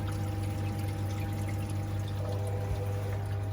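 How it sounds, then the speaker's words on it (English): Aquarium return pump pushing water back up into a main display tank, a steady pouring and trickling flow under a constant low electrical hum, continuous and fairly close throughout. "The water is then fed back out again to be pumped back up into the aquarium."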